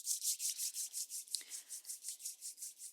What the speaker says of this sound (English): bring the hands to prayer at the heart center and begin to rub the palms together